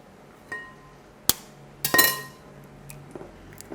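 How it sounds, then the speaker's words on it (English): Two eggs cracked one after another against the rim of a bowl already holding egg yolks, with sharp clinking taps and a brief rattle of shell, close and clear in a quiet kitchen. "I'm going to add 2 eggs to it now"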